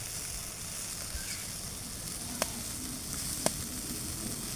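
A whole raw green chili sizzling in hot oil, a low steady frying hiss with two sharp crackling pops, faint and close.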